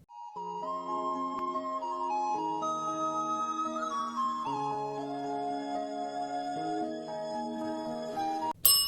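A ghost-hunting EMF bell on the haunted Queen Mary rings by itself, letting out a run of bright, sustained chiming tones that shift pitch like a music-box melody, close and clear, ending in a brief clatter.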